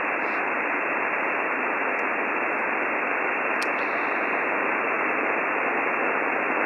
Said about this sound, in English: now I've got noise appearing on my frequency